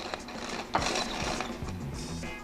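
A hand-cranked flour sifter turns in a kitchen while making beet pancakes, giving a steady run of close, ratcheting mechanical clicks and grinding gear noise for a couple of seconds.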